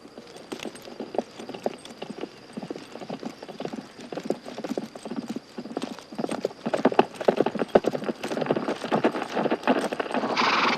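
Several horses ridden on down toward a house in a western movie, their hooves clip-clopping in a steady, dense rhythm that grows louder and closer, with a faint whinny among the hoofbeats.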